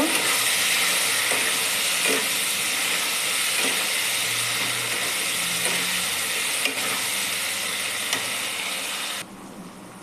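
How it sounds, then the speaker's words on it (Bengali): Tomatoes with salt and turmeric are sautéed in a pan, a bright, close hissing sizzle with light stirring taps, cutting off sharply near the end; nobody talks. "টমেটোগুলো দিয়ে দিলাম, দিয়ে দেবো লবণ, হলুদ দিয়ে এটাকে এবার একটু কষিয়ে নেব"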